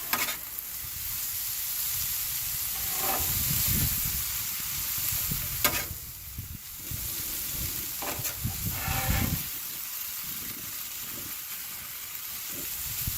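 A soy sauce dish frying in a hot pan, a continuous close sizzle with hissing surges and a few scraping stirs and clanks of a utensil, no talk.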